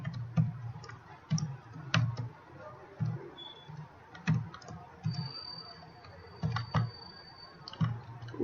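Typing on a computer keyboard during a programming lesson, with steady, evenly spaced key clicks and thumps throughout, close and moderately loud, with no voices.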